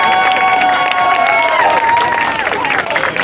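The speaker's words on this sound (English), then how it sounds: "Let's give them a round of applause." A crowd at a school running event applauds its sponsors with steady clapping and some cheering, loud and close, while people talk and shout over it.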